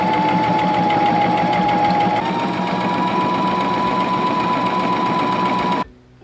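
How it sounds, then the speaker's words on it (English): A sewing machine stitching lace onto a fabric edge for a lacy ruffle scrunchie: loud, steady, close motor whir with a constant hum, running continuously and stopping abruptly just before the end. "I'm gonna sew on the edge of the lace"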